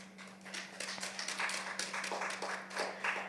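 An audience at a youth gathering applauds softly, a steady patter of scattered claps over a low electrical hum, fairly quiet and somewhat distant.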